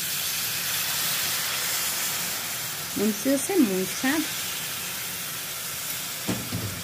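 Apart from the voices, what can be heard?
meat frying in fat, water added to pan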